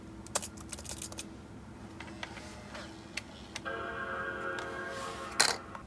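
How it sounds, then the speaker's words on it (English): Typing commands on an iBook G4 laptop keyboard, a run of irregular close key clicks and taps, with a steady electronic tone partway through and a louder clack near the end, no talking. "And now we need to type in the same commands as before."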